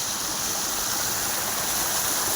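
Water pours steadily from pipes into a field irrigation channel, a constant close rushing hiss with no breaks.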